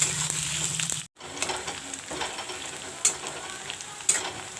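Onions frying in a pan for chicken curry give a steady close sizzle, broken by a brief silent gap and by a few sharp scraping stir clicks.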